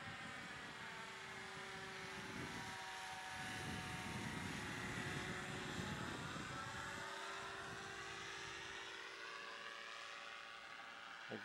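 A small training airplane drones steadily overhead on a low pass in picking-up wind, its engine a continuous moderate hum that swells slightly mid-way, with no talking.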